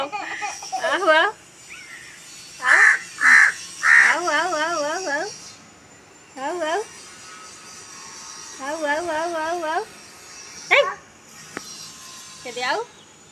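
A crow caws in bursts of harsh, wavering calls spread across the scene. A person in a home setting calls out to the bird between the caws.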